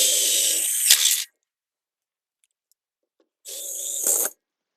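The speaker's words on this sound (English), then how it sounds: "you can then attach the L bracket using two 3/4 inch framing screws" Two short bursts of a power driver sinking 3/4 inch framing screws through an L bracket into a ceiling grid, each about a second long with a whirring rise and a sharp stop, separated by silence.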